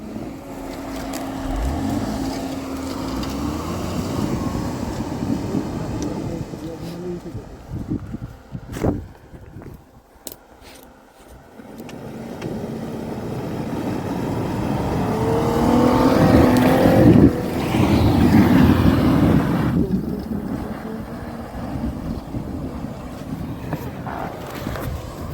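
An off-road vehicle engine revs and labours on a climb near Kareli, rising and falling in strained bursts with a brief dip in the middle, while voices shout over it.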